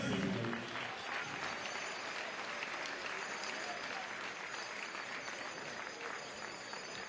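An audience claps steadily to welcome Michel Demézy at an award ceremony, a dense, even wash of applause that is loudest at the start and holds throughout.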